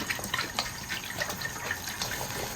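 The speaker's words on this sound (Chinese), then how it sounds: "再来点白醋，" White vinegar poured into a pot of braising chicken heads with water and seasonings gives a faint, brief liquid splash and trickle, with no voices.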